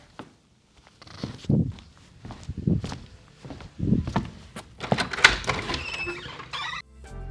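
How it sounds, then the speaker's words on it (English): Foley footsteps captured on a Rode Wireless Go II: a series of close, scuffing steps with scraping and rustling textures, growing busier toward the end before a sudden cutoff. "maybe I want to get some footsteps"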